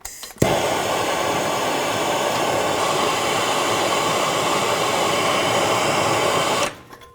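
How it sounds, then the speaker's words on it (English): A torch heats a seized exhaust manifold bolt on a 2007 Chevy Silverado Classic, giving a loud, steady hissing roar that starts abruptly and runs unbroken for about six seconds before cutting off, with no talk over it. "they're more stuck than I thought they were, so I'm going to heat this one up"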